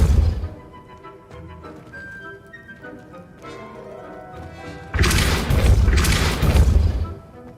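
Depulso force spell in the Hogwarts Legacy video game, a sudden loud booming blast with a crashing burst arriving partway through, rising out of softer game music and lingering for a couple of seconds.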